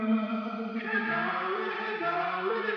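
A sustained vocal sample drenched in reverb and shaped with EQ hums as a smooth, washed-out tone, steady and alone for a few seconds with its highs trimmed.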